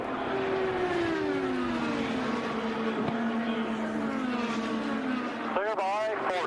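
IndyCar race cars scream around the track in the final laps of the 2018 Indianapolis 500, engine pitches sweeping down as they pass, with a burst of cars flashing by near the end under continuous commentary.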